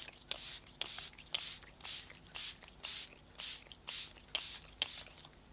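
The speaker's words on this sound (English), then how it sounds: "to lock everything in, I'm going to go in with my Tarte Stay Spray Setting Spray." Tarte Stay Spray setting spray misted in a steady series of about ten short hissing bursts, evenly spaced, close and fairly quiet with no talking.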